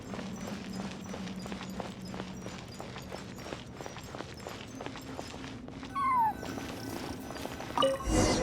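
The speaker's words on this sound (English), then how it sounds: "I followed the cat's cries to find my way out" In Genshin Impact, a cat meows repeatedly in a ruined area, faint to moderate cries under a steady ambient drone with rhythmic clip-clop-like footsteps, then a brief bright chime and a louder burst at the end.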